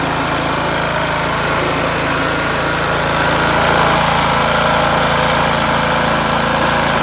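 A Honda GX200 small engine with a repaired broken cam runs at a fast, cranked-up idle, a loud, steady close-up drone with no break throughout.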